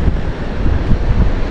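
Steady wind gusting outdoors at sunset, a continuous broadband rush with low rumbling buffets, loud and close as it hits the microphone, with no talking.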